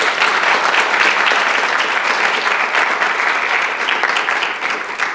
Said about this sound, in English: So big round of applause for the organisers.